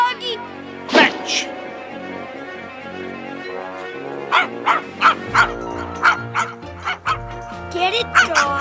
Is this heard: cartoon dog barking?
yes